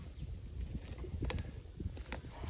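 Outdoor wind gusts rumble and buffet steadily around a microphone on a rural property with trees, low and muffled, with a few faint knocks and rustles mixed in.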